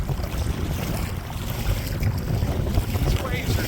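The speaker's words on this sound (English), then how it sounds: "These waves are amazing." Wind and choppy waves on open water, with a steady broadband wash of water and wind buffeting the microphone throughout, close and fairly loud, with no clear individual splashes.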